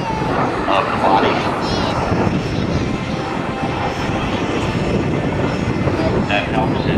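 A B-2 Spirit stealth bomber flies over an air show, its broad, rushing jet roar steady and loud for the whole stretch with no gaps.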